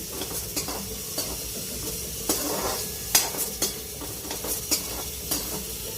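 Green garlic frying in a pan for a winter Gujarati dish, a steady moderate sizzle broken by repeated clinks and scrapes of a spoon on the pan.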